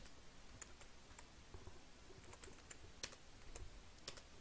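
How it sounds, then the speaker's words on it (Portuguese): Keys clatter on a computer keyboard while code is typed, irregular light taps close to the mic, very quiet overall, with a few sharper keystrokes and no voices. "sou muito ruim digitando esse teclado"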